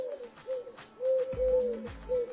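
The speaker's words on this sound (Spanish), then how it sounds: "Era una paloma mensajera." Carrier pigeon cooing, a series of soft repeated low coos with a deeper, longer note in the middle, fairly close and alone without talk.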